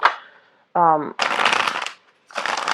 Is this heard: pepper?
no